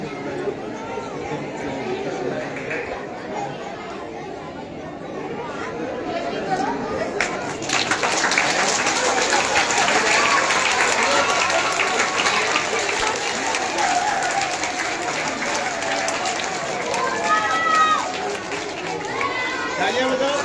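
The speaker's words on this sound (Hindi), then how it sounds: "तालियां बजाओ, तालियां तालियां तालियां तालियां तालियां।" Audience at a school honour ceremony for children of an English-medium academy claps, building from scattered murmur into sustained loud applause after about seven seconds, with crowd chatter and children's voices mixed throughout.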